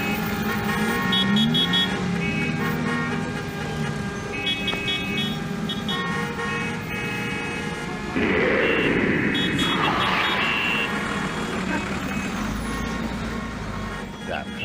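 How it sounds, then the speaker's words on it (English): Busy street traffic with cars rolling past and horns tooting, loud and close, with voices talking over it. "Damn traffic."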